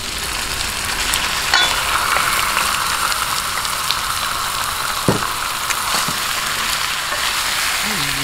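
Chicken sautéing in a pan for tinola, a loud, steady sizzle of frying with a few faint stirring knocks, close and continuous throughout.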